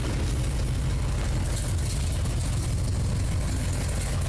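A car engine idles steadily in a garage after being cranked up, a continuous low rumble with no voices, close and even for several seconds.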